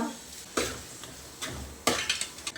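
Spice powders sautéed with coriander leaves and curry leaves in a pan, a soft steady sizzle broken by several scraping stir strokes and light clinks, close and alone.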